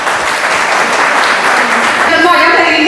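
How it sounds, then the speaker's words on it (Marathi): An audience claps together in a full burst of applause at a school get-together, loud and close. A voice starts talking over the clapping near the end. "त्यांना एका टाळ्या होऊ देत."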